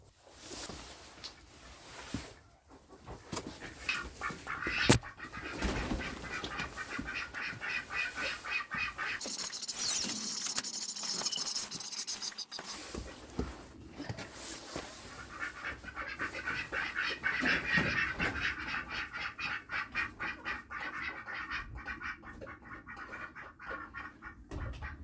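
Ducks quacking inside their shed on a farm at night, a busy, overlapping chorus of nasal quacks and chatter that swells and fades in bursts, fairly close and with no talking.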